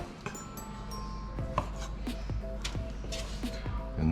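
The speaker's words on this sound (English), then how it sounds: "we just want to cut it into smaller sections and take this hard core out" A knife cutting tomatoes into smaller pieces on a cutting board, a close run of sharp chopping taps at an uneven rhythm over a low steady background hum.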